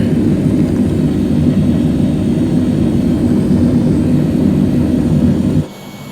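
Airliner engines during climb, a loud, steady low roar from the cabin that holds constant before dropping abruptly to a quieter hum at the end.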